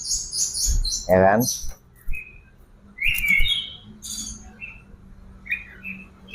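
An oriental magpie-robin sings in loud, close bursts of sharp whistles and chirps with silent gaps, while someone speaks briefly nearby.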